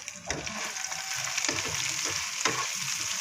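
Leftover pork lechon fries in a pan for ginisang munggo, giving a steady, close sizzle with a few soft stirring scrapes and clinks.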